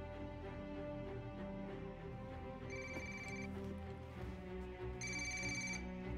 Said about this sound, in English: You're going to want to answer your phone, Officer Bowman